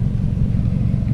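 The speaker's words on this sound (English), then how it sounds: "it's still blowing stuff out of the muffler" A deep, steady engine rumble from a crash-damaged Toyota RAV4 with its muffler hanging off, a rough, blatty low-end exhaust character, continuous and close.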